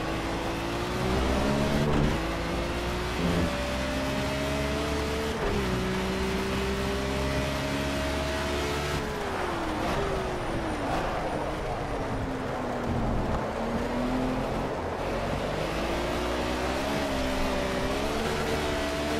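A race car engine in the Project CARS video game during a wet career-mode race, droning steadily and rising and falling in pitch through gear changes, loud and continuous throughout.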